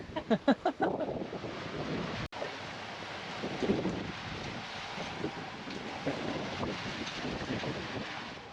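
Gusty wind buffeting a sailboat under sail on open water, a constant low roar with microphone rumble, a few thumping bursts at the start and a sharp click partway through.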